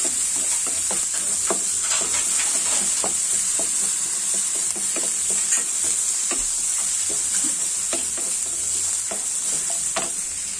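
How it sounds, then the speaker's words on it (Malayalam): One kilogram of onions sizzles steadily in a pan for a Malayalam stir-fry of greens, with a constant frying hiss and frequent stirring scrapes and taps throughout, close and alone. "സവാള ഒരു കിലോ ഇങ്ങനെ വാടി വരുന്നുണ്ട്"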